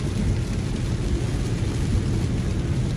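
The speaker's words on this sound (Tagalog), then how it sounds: "Malakas ang ulan sa Sweden." Heavy rain pours steadily near the Kalix River in Arctic Sweden, with a deep, dense roar, constant and loud throughout with no pauses or voices.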